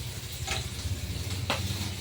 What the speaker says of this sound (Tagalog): At may nagpiprito sa kabilang kawali ng guys.